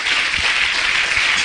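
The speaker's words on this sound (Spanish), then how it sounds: "Denle un aplauso fuerte a Cristo." Congregation applause at a church sermon, a steady wash of clapping from a crowd, moderately loud and unbroken throughout, with no speech over it.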